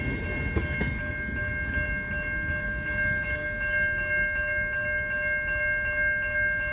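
A long CN freight train rolls past a snowy St Ambroise Street crossing, a continuous close rumble of railcars with faint wheel clatter and a sustained high tonal whine, ending as the last cars go by.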